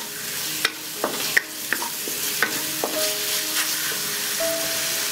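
Shrimp stir-fried with luffa and green and red peppers in a wok, giving a continuous sizzle broken by sharp spatula clacks and scrapes at an uneven rhythm, close and fairly loud.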